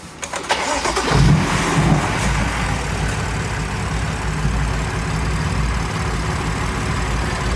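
A BMW car engine, just repaired after a misfire, cranks briefly and catches, then settles into a steady, close idle with no voices over it.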